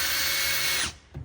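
A power drill drives a screw with a fender washer, giving a loud, steady high whir that stops abruptly, followed by a brief mechanical click.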